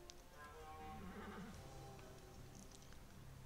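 A horse whinnies in a rising and falling neigh near the middle, with hoof clip-clops and a low hum of background noise around it, fairly faint and without talk.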